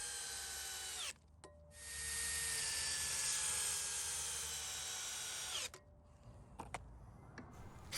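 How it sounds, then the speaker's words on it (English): A power drill drives headlock structural screws into a wooden Scallywag tall swing set. It runs loud and close in one long sustained whine of about four seconds, with a few short clicks and taps around it. "And then drive in screws. I like using these headlock screws, which are a strong structural fastener."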